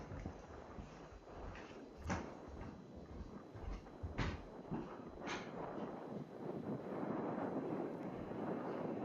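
Wind gusts across an outdoor croquet lawn during a men's golf croquet final in Victoria, a steady broadband rush with a few sharp buffeting knocks on the microphone, loud and continuous throughout.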